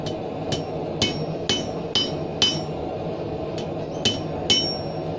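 A blacksmith strikes a hot steel bar while forging a leaf end hook: sharp metallic hammer blows ring out roughly every half second, about nine close, loud strikes over a steady background hum.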